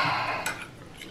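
A spoon stirs agar-agar in a pot, giving a short run of close metallic clinks and ticks against the pot over about a second.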